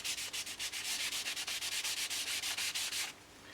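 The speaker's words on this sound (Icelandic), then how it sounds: "notar maður sandpappír til þess að pússa aðeins" Rapid rhythmic back-and-forth rasping of sandpaper on a model aircraft wing, a Bellanca Decathlon built from balsa with CA-glued joints, close and steady for about three seconds before stopping.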